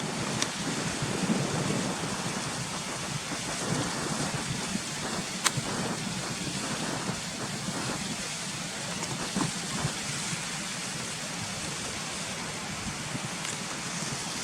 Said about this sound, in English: you can see the waterfalls coming down there now